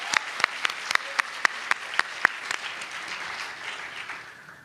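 An audience at an evening reading series claps. A few sharp, close claps stand out first, then the applause thins and fades over a few seconds, with no one speaking over it.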